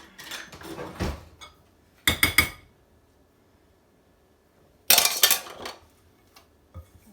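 Metal cutlery and pots clink and rattle in a kitchen drawer while a bigger spoon is fetched for stirring a harvest steak casserole, in three separate clattering bursts with quiet gaps between.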